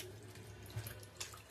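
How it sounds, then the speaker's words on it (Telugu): Mangoes are being washed in a basin of salted water: a short, steady run of splashing and trickling water, close and fairly quiet, with two small sloshes. No voices. "అన్ని వాటర్లో వేసుకొని కొంచెం సాల్ట్ వేసుకోవాలి. సాల్ట్ వేసుకొని వీటిలో క్లీన్ చేసుకోవాలి."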